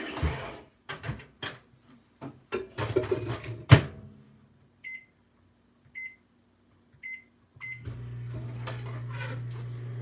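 Microwave oven in a home kitchen: door clatters and keypad taps, then four evenly spaced beeps, after which the oven starts with a steady low hum running to the end.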